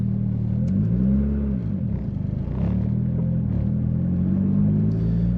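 A Mitsubishi Evo X with a manual gearbox pulls through the gears, its engine note rising and dropping in a steady droning rumble as each gear is held and then shifted, heard close from inside the car with no talk.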